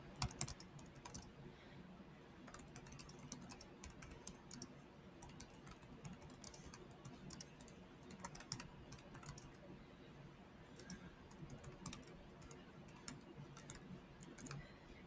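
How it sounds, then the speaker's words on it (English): Quiet, steady typing on a computer keyboard: a continuous patter of soft key clicks with occasional louder taps, heard alone. "So I'm going to start typing for today."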